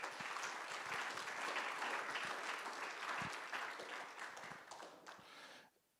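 Audience applause at a guide dog graduation ceremony for blind clients: a full, steady wash of many hands clapping close and loud, thinning and dropping away abruptly just before the end.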